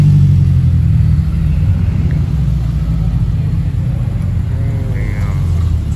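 Supercars including a Lamborghini rumble past at a car gathering, a heavy continuous low engine drone with faint turbo whir on top, steady and fairly loud throughout.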